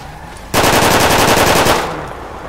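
Rapid burst of gunfire from a pistol in a roleplay video game, a loud, dense volley of shots lasting over a second that starts abruptly and then trails off.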